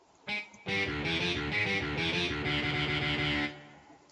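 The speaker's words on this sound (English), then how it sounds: "And then we also have this electric guitar section over here." Distorted electric guitar section of a game character's theme, a chugging riff with sustained harmonics that enters after a short hit and stops abruptly near the end.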